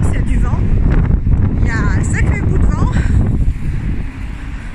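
Strong outdoor wind in Belfast buffets the microphone with a loud, constant low roar for the whole stretch, easing slightly near the end, while faint voices sound in the background.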